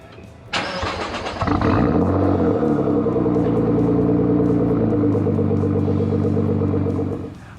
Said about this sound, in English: While the car is idling and the Seafoam is doing its work